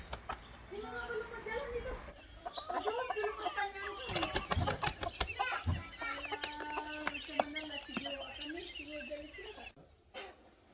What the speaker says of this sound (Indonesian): Ini ayam jantan.